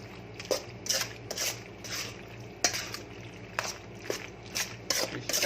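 A spoon stirs tomato sauce and tomato paste for macaroni pizza in a home kitchen, giving repeated scraping swishes in an uneven rhythm over a low steady background hum.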